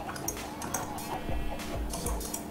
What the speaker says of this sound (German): Kümmer dich mal um deine Hühner, die, die, die flippen mir voll aus.